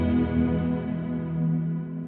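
Donner HUSH-I PRO travel guitar on its cloud ambient reverb setting: a single sustained chord rings out and slowly fades in a smooth, diffuse wash, quiet and with no voices.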